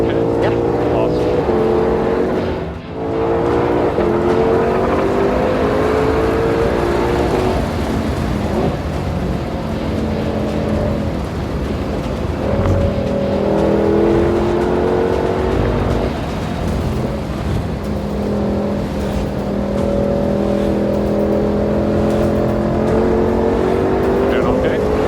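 Race car lapping Ozarks International Raceway at full throttle, heard from inside with a loud, continuous engine roar rising and falling through gear changes and corners, with brief talk between driver and passenger over it.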